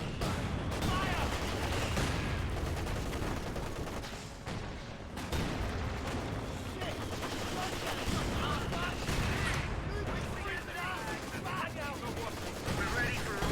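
Sustained battlefield gunfire from what sounds like an anti-aircraft tank and small arms, dense, loud and continuous with short lulls, mixed with shouting voices throughout.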